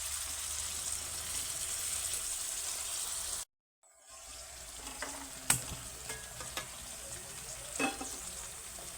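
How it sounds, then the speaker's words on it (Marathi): Eggplant and carrots sautéing in a pan for a traditional Bhogi vegetable dish, a steady soft sizzle broken by a brief silent gap, followed by a few sharp clinks and stirring scrapes close by. "आता जोपर्यंत आपली वांगी आणि गाजर जे आहे परतू राहिले"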